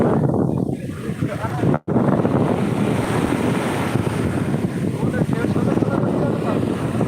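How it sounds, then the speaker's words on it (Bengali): Surf at a Terengganu beach rolls and washes over sand steadily with a roar of wind buffeting the microphone, a brief dropout near the start. "যখন ঢেউটা যখন চলে যাচ্ছে তখন আস্তে মাটি মাটি নিয়ে যাচ্ছে"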